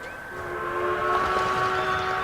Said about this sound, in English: Oh yeah, the Doom Train.